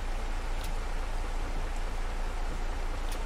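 Rain in Farming Simulator 22 falls as a steady, dense hiss of drops, an even wash of noise that stays constant with no voices.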